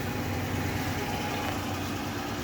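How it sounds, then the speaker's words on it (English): A Harrison M390 geared head gap bed engine lathe runs at steady speed, giving a continuous low mechanical hum and gear whir that holds even and close throughout with no voices. "we're going to demonstrate this machine in running condition."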